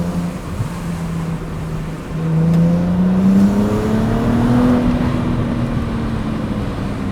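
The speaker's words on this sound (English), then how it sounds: "This car sounds so good." A 16-year-old BMW 135i with the N54 engine pulls hard through the gears, its deep exhaust note rising steadily in pitch and loudness from inside the car, with no talk.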